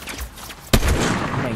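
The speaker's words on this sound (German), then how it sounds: "Devil on Fire kriegt ein paar Schüsse von der Seite." Gunfire in the video game Fortnite cracks out as a sudden sharp shot followed by a dense burst of shooting, heard under a player's excited commentary.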